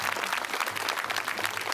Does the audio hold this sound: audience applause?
yes